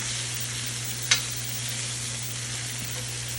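Onions and garlic cooking down in a cast iron pan alongside a NY strip steak, giving a steady, even sizzle with a low hum beneath and a single soft clink partway through.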